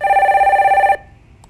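A telephone rings for an incoming call on a Korean stock-market call-in broadcast: one loud, close electronic ring lasting about a second, followed by quiet.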